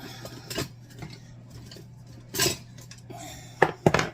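A few clanks and clinks as a frying pan is taken out, scattered and close, with quiet gaps between them.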